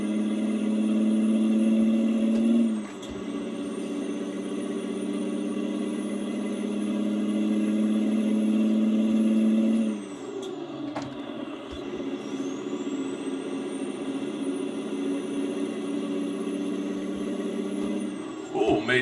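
A truck's engine runs steadily while driving, a loud continuous mid-pitched drone with a whining tone above it, briefly dipping around a gear change and a short hiss like an air brake before settling back to a constant hum.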